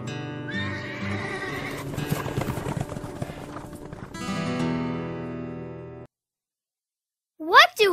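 Feral horses roaming wild whinny and neigh over a steady patter of clip-clopping hooves, with narration running beneath, then a brief silence before a final loud, rising neigh close by.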